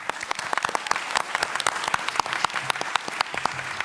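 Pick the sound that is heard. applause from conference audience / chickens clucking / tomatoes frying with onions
applause from conference audience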